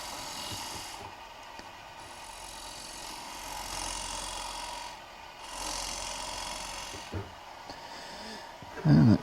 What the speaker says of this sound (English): Use my diamond point scraper to square up the sides of the tenon and the shoulder